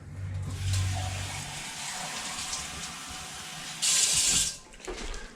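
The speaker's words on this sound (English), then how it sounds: "I'm going to take that can, I'm going to fill it up with water." Tap water runs into a metal can for chili-making, a steady rushing hiss with a brighter, louder surge near the end as the flow changes, then tapering off.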